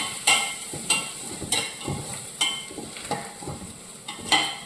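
Garlic rice mixture with salt being stirred in a pan, a run of spoon scrapes and knocks recurring about every half second over a soft frying sizzle, close and with no voices.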